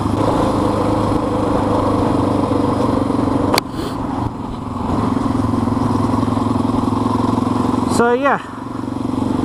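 A kickstart-only Honda XR650R dirt bike engine runs steadily at close range with a rough, loud thump, while someone talks over it.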